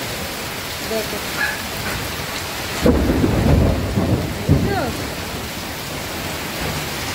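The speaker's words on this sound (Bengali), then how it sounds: "দেখো মুষলধারে বৃষ্টি" Heavy torrential rain pours down on a hot night, a dense continuous hiss with a brief rumble of thunder and louder splashing near the middle, while a person speaks briefly.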